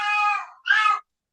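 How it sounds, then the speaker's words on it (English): A house cat meows twice in quick succession, the first call drawn out and the second shorter and rougher, close and fairly loud with silence after. "That's my cat."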